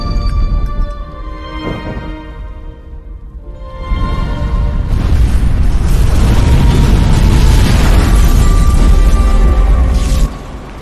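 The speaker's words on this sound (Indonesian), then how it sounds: "Setelah itu terjadi ledakan besar di gedung mereka." A heavy, sustained roaring rumble swells in after a quieter stretch, loud and dense like a large blast echoing through a structure, then cuts off.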